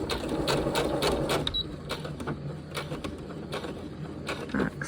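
Home sewing machine back stitching a quarter-inch seam while making a scrappy zipper pouch, a close, steady mechanical whir with rapid needle ticking and short stop-start pauses, no talking.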